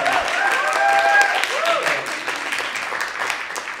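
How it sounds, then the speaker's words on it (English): Audience clapping after a short-film screening at a 48-hour film festival Q&A in Edinburgh, moderate and fairly close, with a cheer and voices mixed in at the start before the clapping thins out. "So give them all a round of applause."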